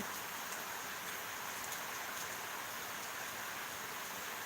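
Steady rain falling during the monsoon, a soft even hiss of drops with no breaks, faint and distant, no voices.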